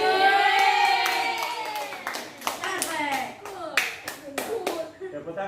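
A group of children claps in a classroom, with scattered, uneven hand claps under loud overlapping young voices, growing sharper and more distinct toward the end.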